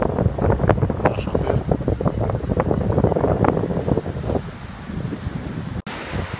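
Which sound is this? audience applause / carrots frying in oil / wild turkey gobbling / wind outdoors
wind outdoors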